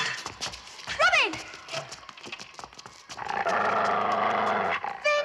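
Dog growling in a 1975 Robin Hood short film, a low rumbling snarl under loud film soundtrack with whistling and other effects, growing steady in the second half.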